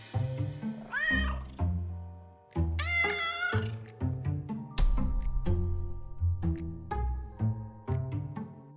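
A domestic cat indoors meows again and again at close range, a run of loud, drawn-out, rising and falling calls separated by short pauses.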